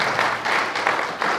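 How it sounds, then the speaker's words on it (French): Brief burst of audience clapping at a launch event for an accountants' club in Senegal, loud and close, with irregular pulses of many hands over about a second and a half. "Applaudissez s'il vous plaît"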